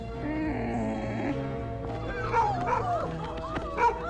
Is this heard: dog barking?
yes